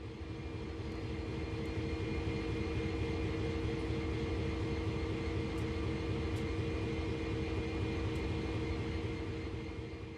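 An SD40-2 diesel-electric locomotive from Train Sim World, with a 16-cylinder, 3,000-horsepower engine, drones steadily at a constant, loud, even pitch for the whole stretch, with no talk over it.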